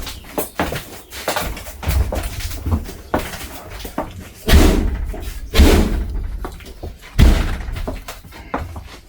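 Rear door of a 12-metre coach bus, a standard manual door rather than the pneumatic front one, shutting repeatedly with several loud, close slams and thunks spaced a few seconds apart, with fainter knocks and handling noises between them.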